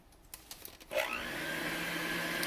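An electric mixer beats chocolate snowball cookie dough on its low setting. A few soft clicks come first, then the motor starts about a second in and settles into a steady, close whir.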